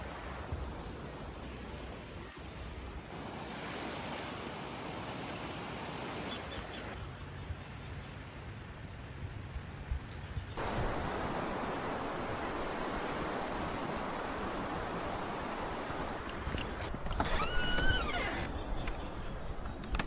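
Sea waves washing onto an island shore in a steady broadband hiss, with wind buffeting the microphone and swelling slightly toward the end, continuous and without speech.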